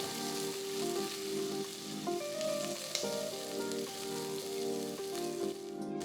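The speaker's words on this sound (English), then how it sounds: "Saute the ingredients just for about a minute." Garlic, ginger and chopped onions sauté in a pan for moringa soup, producing a soft, steady sizzle like light rain, heard fairly quietly beneath sustained background music notes.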